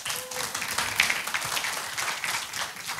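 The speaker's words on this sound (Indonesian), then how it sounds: "Kasih tepuk tangan dong." An audience at a church family talk show applauds steadily, a continuous wash of claps held at an even level throughout, moderately loud, without a clear start or finish.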